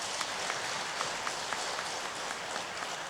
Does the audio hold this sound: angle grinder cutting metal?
no